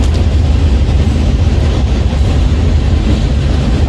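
Loud, rumbling passing train beside a Mississippi graveyard, a continuous heavy roar of rail noise close by with no voices.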